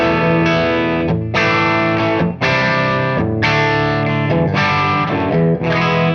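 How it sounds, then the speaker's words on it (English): Electric guitar played through an overdrive pedal set to its soft-clipping voicing, giving a mildly driven, sustained tone; several strummed chords ring out in bursts with short gaps between them, loud and close with no talking. "I'm going to turn this overdrive voicing to a soft clipping position. It's going to be more like an overdrive, like less clipping"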